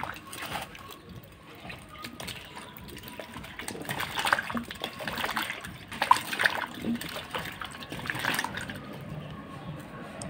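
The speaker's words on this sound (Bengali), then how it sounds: "এখন একটু কসলায় ধুয়ে ফেলবো।" Pieces of sweet pumpkin are washed by hand in a bowl of water, giving soft sloshing and trickling sounds with a few clinks, close and fairly quiet, with faint background noise.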